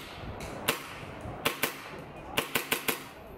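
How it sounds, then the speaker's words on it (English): A KSC Vz 61 airsoft gun fires single shots, sharp snapping cracks that come singly and in a quick cluster of four near the end, close and crisp over faint background. "So charge the gun, single fire, firing on single."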